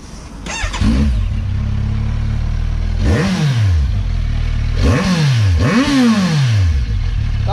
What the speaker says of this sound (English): That's a mean exhaust, mate.